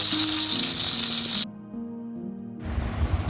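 Rohu fish pieces rubbed with salt and turmeric frying in hot oil, a loud close hissing sizzle that cuts off abruptly partway through and then returns after a short gap.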